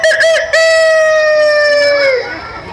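A voice imitates a rooster crowing in the morning: one long, sustained, tonal crow after a brief rising start, loud and close, then trailing off.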